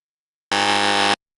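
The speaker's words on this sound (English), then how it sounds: "Use that buzzer." A game show buzzer for a wrong answer sounds once, a single loud, harsh electronic blare lasting about two-thirds of a second, alone against silence.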